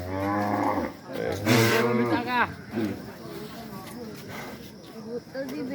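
Cattle at a community Qurbani sacrifice gathering moo repeatedly in long, loud, close calls, with people talking over and between the lowing.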